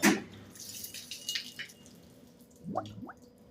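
Water trickles and drips into the expansion tank of a 150 kW steam boiler under repair, a faint, close splash and a few sparse gurgling drips in an otherwise quiet room.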